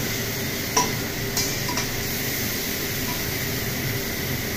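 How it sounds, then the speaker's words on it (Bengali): Meat braises in a pan while being stirred for kosha, a constant sizzling hiss with a few light scraping ticks from the spoon. "তো এদিকে এখন মাংস কষা চলছে"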